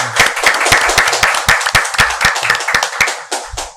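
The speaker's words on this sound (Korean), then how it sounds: "박수 한번 좀 주시죠." A seminar audience on public service gives a short round of applause for an introduced professor: loud, close hand claps in a quick, fairly regular rhythm that trail off after a few seconds.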